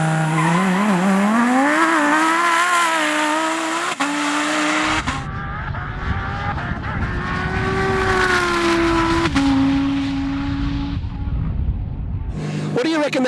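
Twin-turbo Lamborghini Huracan Performante launching on a drag strip, engine screaming up through rising revs with abrupt gear changes and tire squeal, loud and close, a commentator's voice heard over it.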